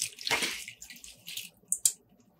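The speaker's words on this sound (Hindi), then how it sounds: "ये देखिए पानी बॉईल हो गया है। अब इसके अंदर डालेंगे" Soaked basmati rice for lamb biryani is tipped into a pot of boiling water, giving a short splashing pour and bubbling rush, then a few lighter splashes and drips as it settles.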